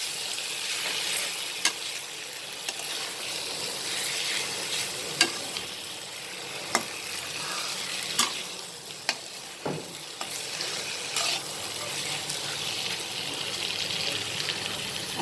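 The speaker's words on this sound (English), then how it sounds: "We'll add the fried pointed gourds to it. And we'll mix it nicely with the spices." Fried pointed gourds tossed with spices in a pan of masala make a continuous sizzle and frying hiss, with frequent clicks and scrapes of stirring spread through a long, close stretch.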